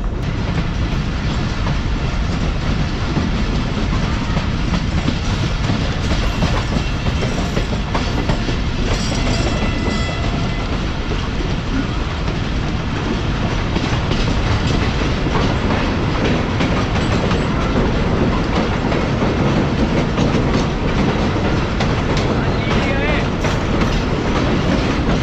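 Steady roar and clickety-clack of a moving train heard from inside a full, clean passenger coach on the ML1 line in winter fog, loud and unbroken throughout with wheel rumble, and faint voices now and then.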